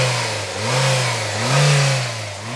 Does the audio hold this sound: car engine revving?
yes